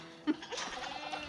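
A goat gives one short bleat on a farm, a close, sudden burst followed by faint rustling and shuffling.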